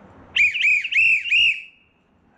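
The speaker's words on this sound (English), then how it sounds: "Little coach's whistle." Small coach's whistle blown in four quick, shrill pulses, the last one drawn out and fading, loud and close with a little background noise.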